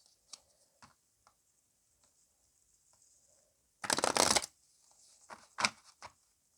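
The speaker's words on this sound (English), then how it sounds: "so pardon me when it comes to my shuffling. I'm not the prettiest shuffler there is." A deck of playing cards being shuffled by hand, with a dense riffling burst partway through and several shorter card flutters and taps around it, fairly close and alone in a quiet room.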